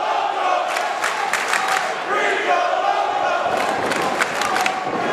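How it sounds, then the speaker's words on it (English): A pro wrestling crowd at a Chicago live event cheers and roars loudly and continuously, with overlapping shouts and bursts of yelling swelling throughout. "I thought I'd let the fans have a second to chime in there"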